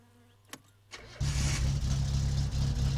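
Car engine cranking and catching in the video game My Summer Car: a couple of faint clicks, then the engine fires and settles into a loud, rough, steady running rumble close by.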